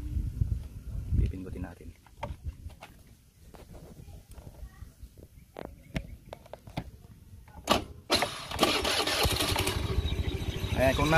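A Keeway Euro 125 motorcycle engine with a noisy side drive, dry of grease on the torque drive, cranks over amid handling noises and then catches with a loud, steady running roar toward the end.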